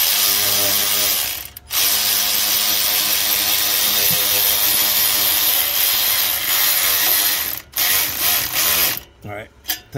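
A ratchet tightens turbo clamp fasteners on a Ford 6.0 Powerstroke diesel, its rapid, loud, continuous clicking filling several seconds up close and breaking into short bursts near the end.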